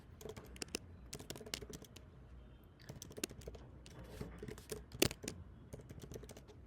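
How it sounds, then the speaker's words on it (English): Typing an email address on a computer keyboard, with rapid irregular key clicks in quick bursts and short pauses, close-up and fairly quiet, with no voices. "So I'm going to type in the email."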